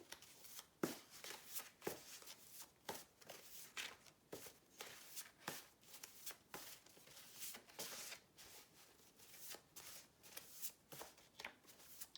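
Tarot cards being shuffled over and over in quick riffling bursts with short pauses between them, close and fairly quiet, no talking.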